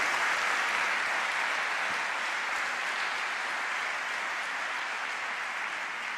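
Sustained, dense clapping from a church congregation praising the Lord, an even wash of many hands that holds steady throughout, fairly loud and unbroken.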